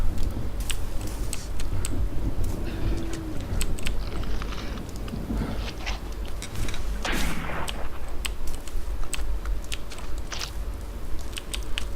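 Gunshots in a World War I era first-person shooter game set around 1916, dense cracking shots and booms over a constant loud battlefield rumble, continuous and busy, without talk.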